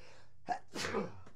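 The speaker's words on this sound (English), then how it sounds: "I have never sneezed on camera before." A single person's sneeze, close and fairly loud, with a sharp intake followed by a burst, in an otherwise quiet room.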